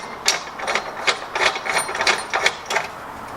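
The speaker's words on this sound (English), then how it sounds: "I'll thread it in to the hole" A bolt is threaded by hand into a trailer hitch receiver hole while a Yakima bike rack is being mounted, giving a close series of small rhythmic metallic clicks and ratcheting ticks.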